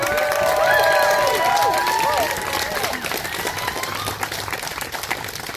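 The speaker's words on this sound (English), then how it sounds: "a big round of applause for Safia for organizing the event" Outdoor crowd at a vigil in Lewiston, Maine, breaks into applause mixed with cheers and whoops, loud at first and then thinning to scattered clapping.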